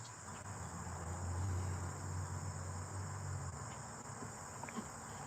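Steady, high-pitched insect buzzing drones continuously in the background, with a low rumble underneath; faint and even throughout.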